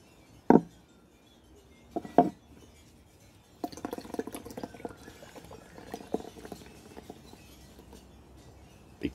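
Deep Creek Crazy Hazy IPA poured from a big can into a big glass: two sharp clinks, then a steady fizzing, gurgling pour with small spikes, close and fairly quiet.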